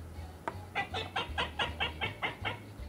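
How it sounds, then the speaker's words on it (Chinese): A group of little ducks calls in a rhythmic run of about nine short, evenly spaced cries, clear and fairly close over a steady low hum. "你们身后还有一群小鸭子呢"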